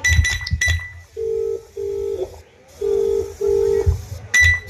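A telephone ringback tone sounds in repeated long beeps with short gaps as an unanswered call rings, framed by brief clattering noises at the start and end.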